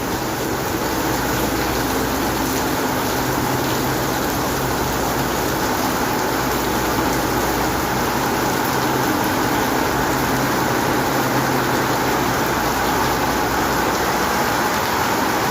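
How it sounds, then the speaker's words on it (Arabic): Rain falls steadily over Jeddah, a continuous dense hiss of drops on surfaces with a low background rumble, unbroken and fairly loud, with no voices. "امطار خير وبركة ان شاء الله."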